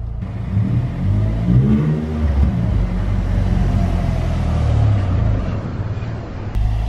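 Car engine in a Ford Fiesta ST revving hard as it accelerates through the gears, a loud, close, rising drone with a brief dip during a shift, heard from inside the cabin.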